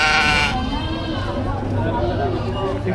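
Goats bleating fill the opening half second at a livestock market, then continue more faintly under steady talking and crowd noise.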